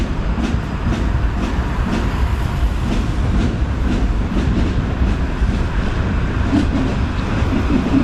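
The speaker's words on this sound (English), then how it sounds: "Is that the train making that noise?" A train rolls past close by in Paris, France, its wheels clacking in a steady repeating rhythm over a loud continuous rumble, with no talking.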